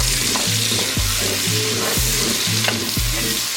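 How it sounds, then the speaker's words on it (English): Onion, garlic and jalapeno sweating in rendered bacon fat, a continuous bright sizzle close up with regular scraping strokes of a spoon or spatula about once a second, loud and without voices. "add your vegetable mix of onion, garlic, and jalapeno. Sweat the vegetables."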